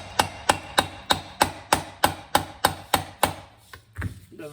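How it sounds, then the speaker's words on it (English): A hammer strikes a flywheel puller on a 1980 Yamaha YZ125. About eleven close, sharp metallic blows land in a steady, even rhythm, then the sound trails off into a few lighter knocks. "Then you can hit it a bit with a hammer."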